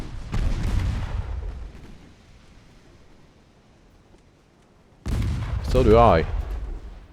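A heavy cruiser fires its main guns in a naval warfare video game: two loud, booming salvos about five seconds apart, each rolling off into a rumbling tail, with someone briefly speaking.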